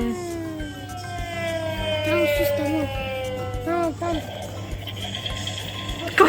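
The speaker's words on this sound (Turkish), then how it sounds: "Siren sesi gibi." A siren wails with rising and falling tones, fairly loud and close, while background chatter and other electronic sounds overlap it.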